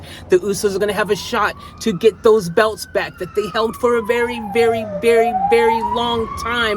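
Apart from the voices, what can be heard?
emergency vehicle siren passing by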